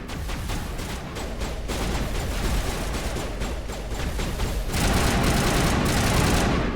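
Sustained gunfire in the Mass Effect video game rattles in rapid, dense bursts of shots, loud and continuous, getting even louder and brighter near the end.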